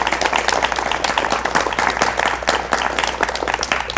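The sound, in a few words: studio audience applause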